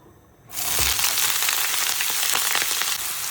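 Cut eggplant, potato and onion tipped into hot oil set off a sudden loud burst of sizzling after a moment of quiet, then a sustained crackling fry close by with faint stirring.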